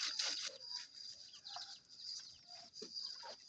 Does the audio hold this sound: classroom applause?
no